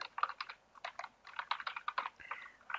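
Steady, rapid typing on a computer keyboard while entering code, with dense irregular clicks and key taps close up, running continuously with brief pauses and no talking.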